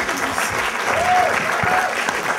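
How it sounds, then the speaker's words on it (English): Audience at a panel discussion bursts into brief applause, a dense wash of clapping with a voice faintly mixed in. "give yourselves a round of applause"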